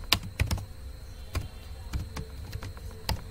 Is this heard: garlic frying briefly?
no